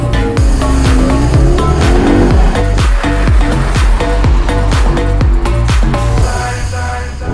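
An Audi S3 with 310 horsepower and quattro all-wheel drive, driven hard. The engine roars loud and close throughout, with rhythmic surges and a busy, continuous road noise.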